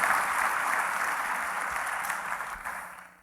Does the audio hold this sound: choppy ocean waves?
no